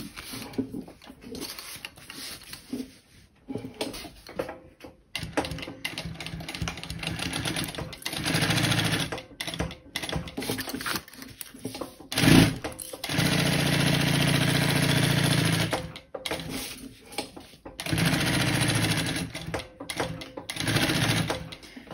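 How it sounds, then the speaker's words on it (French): A sewing machine stitches around three sides of a lining pocket to close it, running in several long bursts with short pauses between them, close and steady. "on va maintenant venir coudre ces trois côtés, ce qui va fermer la poche et la rendre fonctionnelle"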